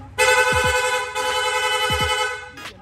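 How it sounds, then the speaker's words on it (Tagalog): A loud PIAA car horn in rapid-horn mode blares almost continuously for over two seconds, with a brief hitch partway through, up close. "Okay, rapid horn."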